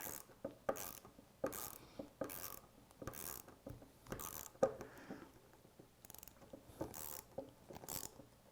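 A ratchet driving in a screw during wheel assembly: repeated quick clicking bursts in an uneven back-and-forth rhythm, close and fairly quiet, with no talk.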